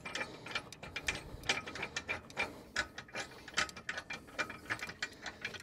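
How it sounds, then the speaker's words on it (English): The bolt of a Yakima EXO hitch-mounted cargo carrier is tightened by hand, producing rapid ratchet-like clicking in quick, uneven bursts, close and fairly loud. "I'm just gonna tighten it with my hand until I can't anymore"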